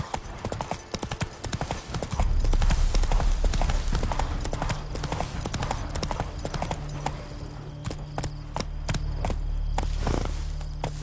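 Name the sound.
horse Roach galloping, hooves clip-clop, in video game The Witcher 3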